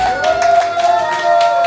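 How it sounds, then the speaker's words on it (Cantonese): Applause rings out from the audience at a third-anniversary cooking event, a steady patter of clapping mixed with a sustained musical tone through the short stretch. "再次掌聲，多謝"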